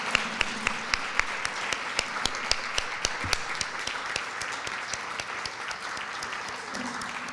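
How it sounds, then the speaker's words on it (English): An in-person audience at an awards event gives a round of applause, a sustained crowd clapping with a few sharp, close individual claps standing out early, then settling into a steady, even patter. "we can give you an in-person round of applause"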